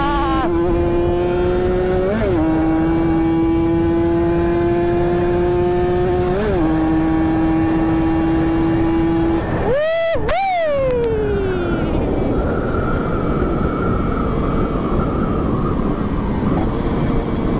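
A bored-up Kawasaki Ninja RR two-stroke racing motorcycle at full throttle, its high engine note climbing steadily with brief gear-change dips, then a sharp rise and fall as it passes, with loud wind rush throughout.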